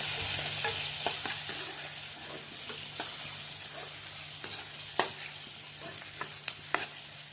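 Onions and green chillies with turmeric are stirred in a frying pan, giving a steady close sizzle with a few sharp scraping clicks of the spoon against the pan and no talk.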